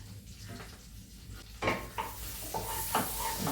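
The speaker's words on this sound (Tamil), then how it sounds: "நல்லா பொரியட்டும் பட்டரில்." Whole spices like star anise and cardamom frying in butter in a pan: a soft, steady sizzle with a few light clinks and stirring scrapes, close and fairly quiet, with no talking.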